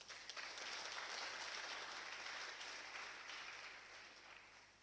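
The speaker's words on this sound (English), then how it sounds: "Please give these supporters a resounding round of applause." An audience at a memorial lecture claps in warm, sustained applause for the event's supporters, a dense wash of many hands that swells quickly and then tapers slowly.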